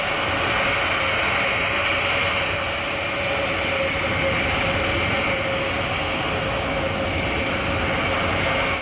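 Aircraft engines drone loudly and steadily at an airshow, a continuous near roar with no gaps and no talk over it.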